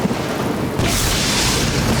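A sudden deep boom of a lightning strike, a loud broad rumble of thunder that jumps in near the end of the clip and holds at full strength, with rain on a farm in the background.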